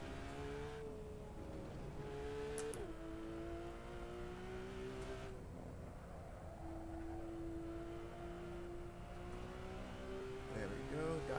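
A race car in Assetto Corsa accelerates down a straight, its engine tone climbing steadily through the gears with brief dips at each shift, loud and close, while someone talks over it.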